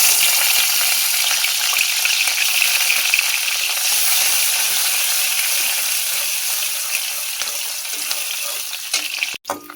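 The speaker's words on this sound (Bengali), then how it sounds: "পেঁয়াজটা ভাজা ভাজা হয়ে গেছে" Chopped onions frying in hot oil for an egg curry with snake gourd, giving a steady, close hiss of sizzling with faint stirring scrapes and a sharp clatter near the end.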